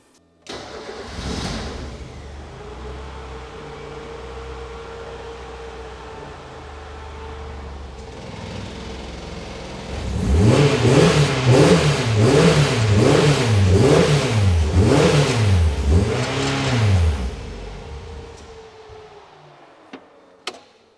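E85-fueled Miata engine with 13:1 compression starting and idling, then revved repeatedly in quick rising-and-falling blips before settling back to idle, loud and close with no talk.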